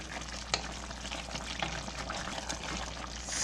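Mutton curry masala is stirred in a pot as it cooks, a quiet wet sizzling and squelching with a few soft clicks from the spoon.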